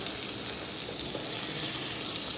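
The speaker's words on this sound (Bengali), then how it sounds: "চলো পটলগুলো ভাজে" Close, steady sizzling of pointed gourd frying in hot oil, crackling continuously with no voices.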